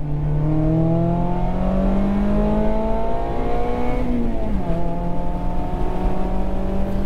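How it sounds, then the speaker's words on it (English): An ND Mazda MX-5 Miata engine with a Goodwin Racing exhaust revs up steadily with a rising, throaty drone, then briefly dips and settles into a loud, sustained roar, close by. "my God, does this engine sound amazing"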